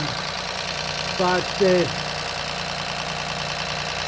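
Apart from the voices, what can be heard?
Ford Fiesta 1.0 EcoBoost engine idling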